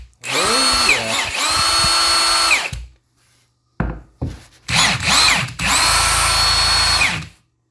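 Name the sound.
repaired Milwaukee M18 power drill running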